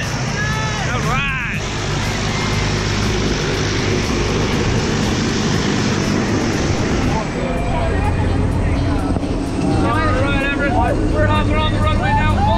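A skydiving plane's engine drones loud and steady on the runway before a tandem skydive, a continuous propeller roar filling the whole stretch, with people shouting and talking over it.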